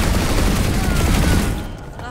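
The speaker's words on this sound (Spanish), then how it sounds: "¿Quién está disparando a dónde?" Dense, loud automatic gunfire in the video game PlanetSide 2, a continuous close fusillade that tapers off near the end.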